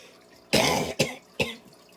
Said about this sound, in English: This cough is not going away.